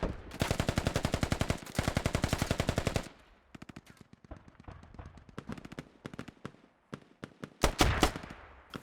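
AK rifle fire in a multiplayer war video game: two long, steady full-auto bursts close and loud, followed by scattered single shots and shorter bursts, some further off, with a loud cluster of shots near the end.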